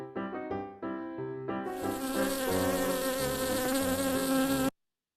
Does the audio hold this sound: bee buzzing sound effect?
yes